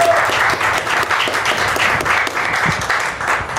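An audience applauds for guest presenter Bobbie Horowitz at a talk event, steady clapping holding for several seconds at a fairly loud level without talk over it.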